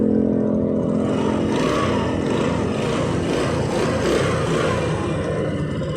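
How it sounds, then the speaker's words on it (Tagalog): A motorcycle engine runs steadily nearby after repair work on its carburetor suction hose, a continuous loud buzzing idle with slight revving swells and no talking. "umandar yung motor."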